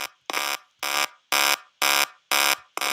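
A game engine plays a 3D positional beep from a cube: a loud, harsh electronic tone pulsing regularly about twice a second, six beeps with nothing else heard.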